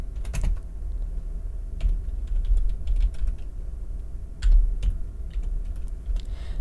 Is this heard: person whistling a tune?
no